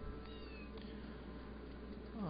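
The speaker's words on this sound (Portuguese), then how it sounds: "Ah, o gato dele aqui." In the PS1 game Harry Potter and the Philosopher's Stone, a cat meows faintly over a steady bed of game ambience, the short call arriving near the end.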